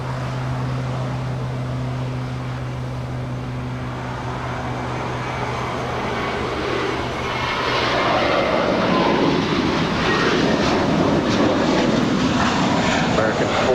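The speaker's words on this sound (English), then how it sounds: "Up there on the north side is the SES Scandinavian A350-900 coming from Copenhagen." A Scandinavian Airlines Airbus A350-900 arriving from Copenhagen at Los Angeles airport makes a broad jet roar that swells steadily louder and stays loud, under background voices and radio talk.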